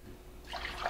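Tap water runs into a pot for cooking pork-flavored ramen, a brief close splash and trickle that rises in the second half, with no talk over it.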